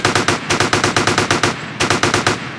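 Rapid automatic gunfire from a gang war in GTA San Andreas: The Definitive Edition, loud close bursts of regular shots with a brief pause before firing resumes, no voices.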